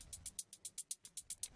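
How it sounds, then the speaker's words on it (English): A tiny shaker loop panned to the left ticks out a steady run of about eleven bright, crisp shakes, evenly spaced and quiet, with nothing else playing. "So we have another shaker loop that's panned to the left that sounds like this."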